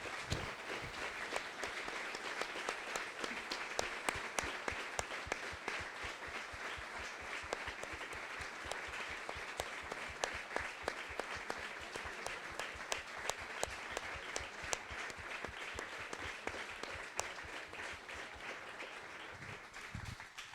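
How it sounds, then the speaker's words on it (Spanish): Sustained applause from a seated audience at a political school event in Spain, honouring Miguel Ángel Blanco, with dense steady clapping throughout and no talk over it. "Y quiero pedir para él un fuerte aplauso"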